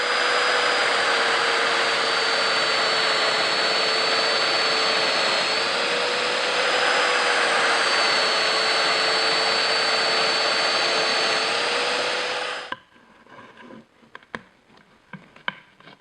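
A Festool Domino joiner cuts a mortise in a wooden dining table leg: a loud, steady motor whine with a rushing, extractor-like roar that runs for about thirteen seconds, then stops abruptly, leaving faint clicks and rustles.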